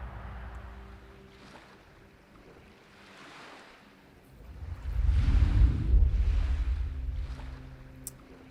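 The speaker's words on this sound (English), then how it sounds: "They cannot hit these boats." Drone boats running on open water in wartime, with low rumbling wash and wind buffeting the microphone, swelling louder midway as a craft passes close, then easing back to a steady surge.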